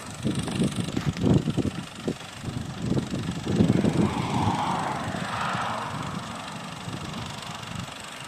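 Massey Ferguson 240S tractor engine driving along a road, a steady rough low chugging with rhythmic pulses that stays fairly loud and close throughout, with no talking.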